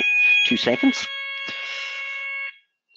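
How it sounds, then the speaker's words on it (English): An indoor fire alarm test sounds as a loud, steady electronic tone with sharp harmonic ringing, continuing for about two and a half seconds before cutting off, while a person speaks briefly over it. "That's our fire alarm test."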